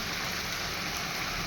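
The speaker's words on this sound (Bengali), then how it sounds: "আমার পরিমাণ মতন আমি জল দিচ্ছি" Hot water is poured into a cooking pot for a thin sarpunti fish curry, making a continuous close splashing rush with no talking.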